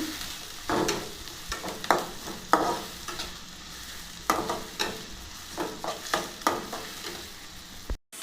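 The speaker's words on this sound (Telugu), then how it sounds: "కొంచెం ఆనియన్స్ బాగా ఫ్రై అవ్వాలండి" Onions fry in a pan for egg fried rice: a continuous sizzle broken by irregular clattering scrapes of a spatula stirring against the pan, close and fairly loud, with no voices.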